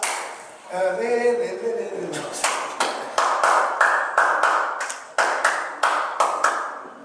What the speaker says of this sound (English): This is the clap you find in everything you have Zouk